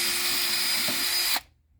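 Power drill reaming out a hole in wood for a wooden lamp, a steady close whine that cuts off abruptly near the end, leaving near silence.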